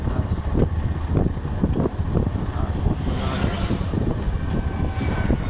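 A Hero Xtreme 125cc motorcycle engine runs steadily while riding in fifth gear, a close, continuous drone with rhythmic low pulses and wind buffeting over the microphone.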